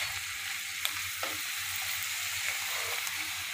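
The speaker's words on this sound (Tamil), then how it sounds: "எண்ணெயிலேயே நல்லா வதக்கி விட்டாச்சு." Arai keerai greens sauté in hot oil with a steady soft sizzle, close but fairly quiet, punctuated by occasional light stirring scrapes.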